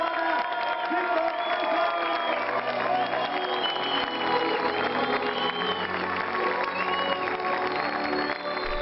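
A crowd at the 2006 24-hour motorcycle endurance race at Circuit de Catalunya applauds and cheers the Suzuki Català team, sustained clapping with whoops and shouts while an announcer's voice carries over it.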